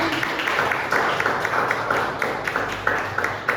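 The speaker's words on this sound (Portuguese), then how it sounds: "Aplauda ao Senhor, querido." A church congregation claps in dense, continuous applause, steady and fairly loud, with a few voices faintly mixed in.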